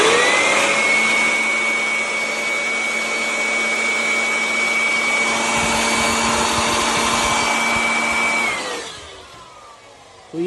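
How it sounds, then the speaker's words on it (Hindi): An electric air blower blows steadily into an air conditioner unit, giving a loud continuous whirring roar with a high whine for about eight seconds before winding down, with no talk. "जैसे ही यहाँ पे ब्लोअर से हवा देता हूँ"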